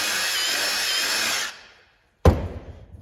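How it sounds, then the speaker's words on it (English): A power drill with a 1/4 inch bit bores through a car tire: a loud, steady high whine for about a second and a half that winds down to silence, then a sharp close clunk. "I like to take a drill bit with a 1/4 inch drill bit on it and just drill through the hole"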